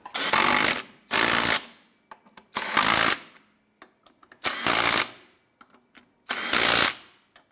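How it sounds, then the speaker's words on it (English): Lug nuts on a Ford Escape wheel are snugged down with a power tool, heard as five loud, close bursts of roughly half a second each, separated by short gaps with faint clicks. "I'm gonna go ahead and snug these down."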